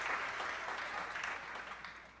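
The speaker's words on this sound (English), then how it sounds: "We have our applause back, Achilles." A burst of applause used as a sound effect, steady dense clapping from a sizeable crowd that fills the whole moment and tapers slightly at the end.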